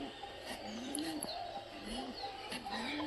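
Pigeons coo in a coop, homer and mukhi birds kept apart, with repeated low rolling coos rising and falling over a steady hiss, plus a few faint chirps close by.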